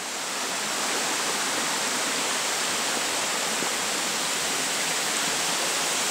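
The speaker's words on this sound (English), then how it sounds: "cute little creek here that we have" Water rushes steadily nearby in a constant, full hiss, like a small creek flowing over rocks in Copper Falls State Park, with no other sounds.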